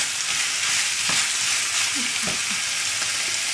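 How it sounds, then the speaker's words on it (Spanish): Ground meat sizzles steadily in a pan for bolognese sauce, with a spoon occasionally knocking and scraping as it stirs and breaks up the meat, close and continuous. "Lo vamos a mezclar, vamos moviéndolo para que la carne se vaya soltando."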